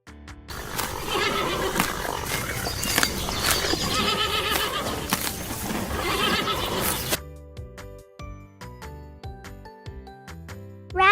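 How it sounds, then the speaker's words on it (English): A horse whinnies loudly in a long, shaky neigh accompanied by clip-clopping hooves, followed by a quieter stretch of light musical tones after the call ends. "horse."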